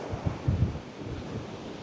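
Strong wind buffets the microphone at a public beach in Pagudpud during habagat monsoon season, a steady roaring rush with a few louder gusts and a possible wash of surf underneath, no voices.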